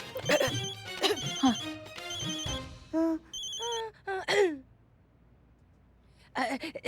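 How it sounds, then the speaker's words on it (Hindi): A telephone rings in a police-station drama, repeated electronic ringtone bursts with a brief pause before a final ring, while people talk over the opening rings. "डीएसपी सर का फोन आ रहा है।"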